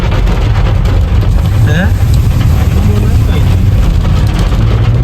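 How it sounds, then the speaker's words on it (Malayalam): Strong wind buffets the open hillside at the Attappadi viewpoint in Palakkad, with rain coming in. A loud, constant low roar and rumble runs without pause, and a voice is faintly present underneath. "നല്ല കാറ്റുണ്ട് കേട്ടോ."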